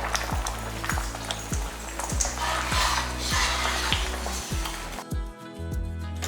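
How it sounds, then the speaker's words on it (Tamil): Sambar bubbles in a pot, with repeated scraping and clinking of a utensil stirring in a steady rhythm, then a brief quieter bubbling at the end. "இப்போ எடுத்து பார்க்கலாம் எப்படி கொதிச்சுட்டு இருக்கு பாருங்க"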